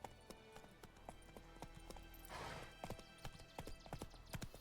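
Horse hooves clip-clop in a steady run across ground in The Witcher 3, loud and close, with a brief whinny partway through.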